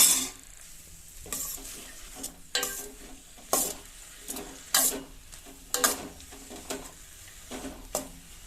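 Iruvachi flowers and onions sauté in a pan, a steady soft sizzle broken by repeated scraping stirs of the spatula against the pan, close and moderately loud, with no talking.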